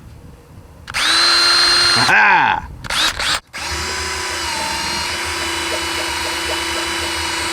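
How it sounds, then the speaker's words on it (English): A 20-volt cordless power drill spins an oil pump drive tool to prime the engine of a 1937 Pontiac, a loud close whine that revs up, stutters and stops, then settles into a long steady drone. A voice exclaims briefly. "I give you the 20-volt cordless power drill"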